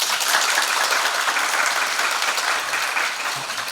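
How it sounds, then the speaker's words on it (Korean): A lecture audience at a special talk by a forensic scientist breaks into steady applause, a dense, even clapping that fills the room and fades slightly toward the end. "여러분의 큰 박수로 청해 듣겠습니다"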